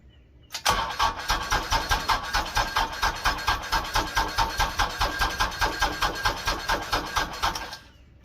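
An LS MT122 tractor's diesel engine cranks at -25°F without a block heater after its glow plugs have run: a loud, rapid, evenly pulsing churn that goes on for about seven seconds before dropping away.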